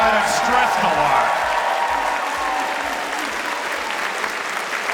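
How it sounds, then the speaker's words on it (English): Sustained applause from a convention audience at closing ceremonies for the events director, loud dense clapping filling the room, steady throughout with a few voices mixed in. "Big round of applause for a guy that stressed a lot."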